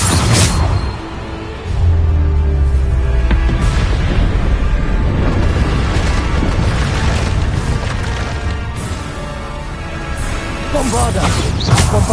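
Bombarda explosion spells go off in Hogwarts Legacy: loud, dense blasts with a splintering, crashing quality, one after another over constant battle noise, with a voice shouting over them.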